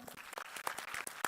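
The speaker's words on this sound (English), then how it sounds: "Big round of applause to her." Audience applause at a university business conclave in Pune, a quiet burst of many scattered hand claps running steadily for the whole short stretch.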